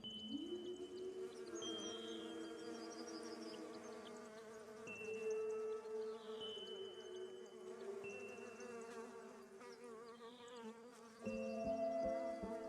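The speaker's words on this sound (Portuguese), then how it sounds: "A primavera se deve a estas abelhas." Bees buzzing around spring flowers, a steady close drone with shifting pitch as individual insects fly near and away, continuous and fairly quiet with no voices.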